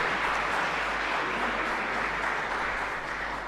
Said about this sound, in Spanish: pido un aplauso para él de nuevo